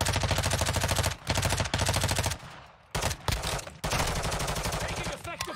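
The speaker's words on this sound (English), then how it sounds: "Taking effective fire!" Close, loud automatic gunfire in the Call of Duty DMZ video game, rapid repeated shots in several bursts broken by brief pauses, with heavy sustained fire through most of the stretch.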